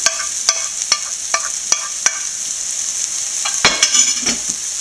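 Shrimp dropped into a pan with chili, turmeric and garam masala make a run of sharp, evenly spaced clacks over a constant bright sizzle, followed by a burst of clattering and stirring, all close and without voices.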